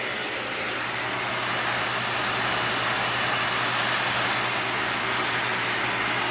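A Dyson Ball Animal 3 Extra upright vacuum cleaner runs with a loud, steady, whining roar and a thin high-pitched tone, close and unbroken, with no talking.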